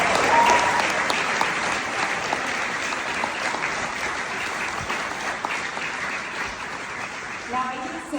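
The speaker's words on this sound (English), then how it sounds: "Let's give her another round of applause." Audience at a charity gala breaks into sustained applause, a steady wash of clapping that holds loud for about eight seconds before tapering slightly at the end.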